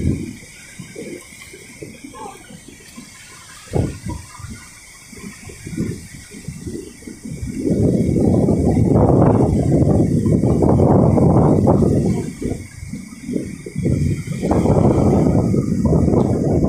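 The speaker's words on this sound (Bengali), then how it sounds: "দেখুন কত বড় বড় ঢেউ তুলে আসতে পড়ছে।" Big waves roll in and break on the Red Sea shore in Saudi Arabia, a soft rushing wash that swells into a loud, sustained roar of surf about halfway through, with repeated heavy surges.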